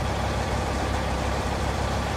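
Kenworth C500 truck with a 735-horsepower Detroit engine in American Truck Simulator, hauling a 40,000-pound loader on a lowboy; a steady, low diesel rumble drones evenly throughout with no speech.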